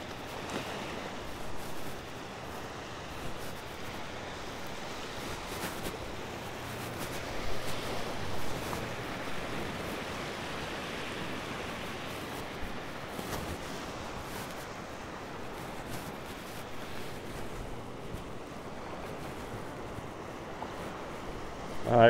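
Ocean surf rolling onto a Fire Island beach on the Atlantic shore, a steady broadband wash with gentle swells and some wind buffeting, no voices, continuous throughout.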